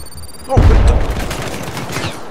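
Dense burst of gunfire in the 2012 PC game Syndicate, starting abruptly as a loud boom and continuing as a rapid, rattling fusillade of close shots, with faint voices mixed in.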